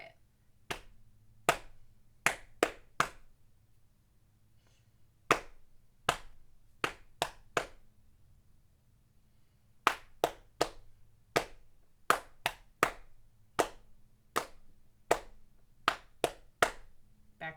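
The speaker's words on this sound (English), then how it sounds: "Clap, pat, pat, clap, pat, pat, clap. Here's where it changes. Quiet, quiet, snap, quiet, quiet, snap" Crisp isolated hand claps, body pats and finger snaps in a steady repeating pattern, with a pause of silence before the sequence resumes and grows denser, performed close and alone in a quiet room.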